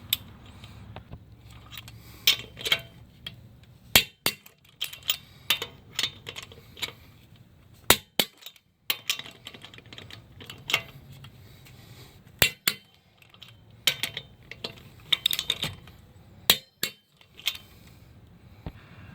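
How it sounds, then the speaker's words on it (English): Torque wrench tightening lug nuts to 100 foot-pounds on a lowered Kia Soul during a driver's-side CV axle replacement: a series of sharp metallic clicks and clinks, fairly close, arriving in irregular clusters over faint background rumble. "we can go ahead and torque our lugs to 100 foot-pounds"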